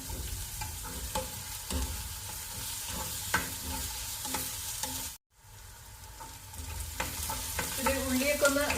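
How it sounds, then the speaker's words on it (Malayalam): Sliced onion, green chillies, garlic and a small piece of ginger fry in oil for an anchovy roast masala, a steady close sizzle broken by repeated spoon scrapes and stirs throughout. "വലിയ സവാള, ഒരു 3 പച്ചമുളക്, 2 വെളുത്തുള്ളി, ഒരു ചെറിയ പീസ് ഇഞ്ചി അത്രയും ചേർത്ത് ഇത് ഫ്രൈ ചെയ്യാം"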